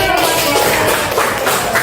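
Dense, close clapping from a classroom group of teachers and students, brisk and continuous through the short burst.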